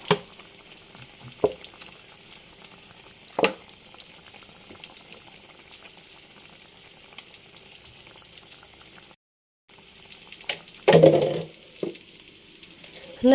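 Fish curry in a hot clay pot, off the heat, with raw coconut oil poured on, giving a soft low bubbling sizzle punctuated by a few sharp clinks, a brief gap, then a louder burst of handling noise.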